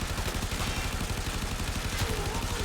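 Rapid gunfire from the Acceltra rifle in Warframe, rounds striking the ground nearby with dense overlapping explosions, a loud continuous rattle and boom that fills the whole stretch without pause.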